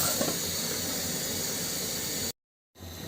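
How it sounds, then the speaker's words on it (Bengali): Catla fish curry with white eggplant at a hard boil in a pan, giving a steady broadband steamy hiss that holds evenly, then cuts out abruptly and briefly returns. "অনেক জোরে বলক আসছে"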